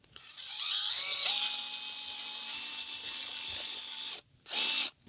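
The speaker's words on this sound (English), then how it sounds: "I'm going to just try and drill out this hole and see if I can make it a little bit thicker." A small power drill bores a hole in a plastic paint pouring cup, a bright sustained whine with a steady hum, stopping briefly then a short second burst.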